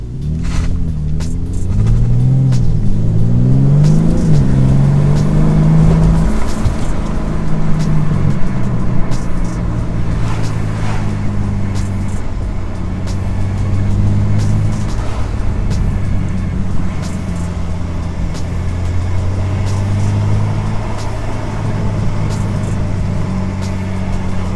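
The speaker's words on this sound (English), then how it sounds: "you hear the factory burbles and everything on it" A BMW M3 CS engine with its factory exhaust rumbles loudly from inside the cabin. Low revs rise and fall, with a deep steady drone and faint burbling under the motor noise.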